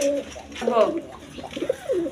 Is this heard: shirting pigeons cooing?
yes